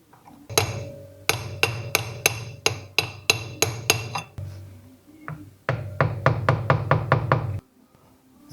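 A retaining ring is tapped into place on a Toyota Corolla 120 steering column with a hammer: two series of evenly spaced sharp metallic knocks, each about half a second apart, close and loud, separated by a brief pause.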